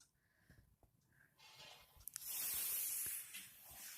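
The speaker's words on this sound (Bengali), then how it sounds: "পেঁয়াজ বাটা দেওয়া হচ্ছে এইভাবে করে আমরা মশলাটাকে কষাবো অনেক সময় ধরে এবার চিকেনটা দেওয়া হয়ে গেল" Chicken is tipped into a pot of onion paste masala, and after a quiet start a loud sizzling hiss rises near the mic, holds for a second or two, then eases off. Restaurant-style chicken curry.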